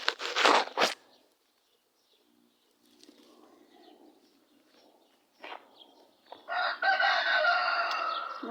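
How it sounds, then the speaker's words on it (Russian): A rooster crows nearby on a rural plot in May, a long rising cock-a-doodle-doo at the end, with a short burst of noise at the start and quiet clucking in between. "Ну вот, петух опять кричит."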